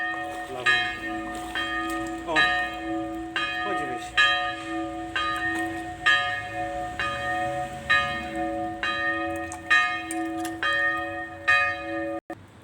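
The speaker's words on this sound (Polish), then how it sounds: "Właśnie dzwony przestały bić" Church bells ring in a slow, regular series of strong peals, each tone lingering before the next strike, fairly close and loud.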